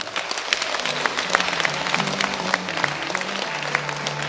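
A crowd claps in a philharmonic concert hall during a televised talent show, sustained dense applause with scattered sharper claps rising above it, with a faint voice underneath.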